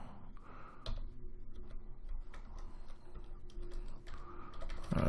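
Typing on a computer keyboard while entering an order on a Token.store decentralized crypto exchange: scattered light key clicks, fairly quiet and close, with no talking.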